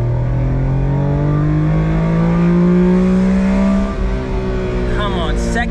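A Honda Beat's engine revs hard in second gear at about 60 km/h, a loud rising harmonic whine that climbs steadily for about four seconds, then eases off and continues under a brief voice.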